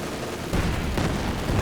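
Heavy bombs burst in Company of Heroes 2 battle, a dense rumbling barrage with a loud thump about halfway through and another swell near the end, booming low and continuous without pause.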